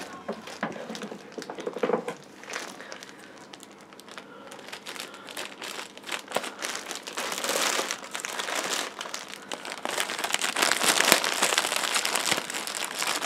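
An eBay squishy package being cut open and unwrapped, with steady crinkling and crumpling of plastic packaging, close and continuous, with scattered rustles and taps and no talking.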